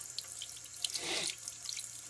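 Cold tap water runs steadily into a sink while a smelt fish is rinsed, a soft constant hiss that swells briefly in the middle, with no talking.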